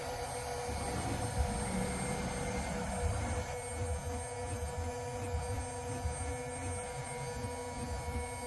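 A CNC router on a Onefinity Foreman runs its drill spindle cutting only air, giving a steady close whine and hum with layered tonal overtones, continuous and unbroken, with no one talking.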